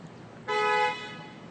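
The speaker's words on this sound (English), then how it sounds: "Or honk your horn" A single short car horn honk, clear and moderately close, sounding for about half a second over quiet background noise.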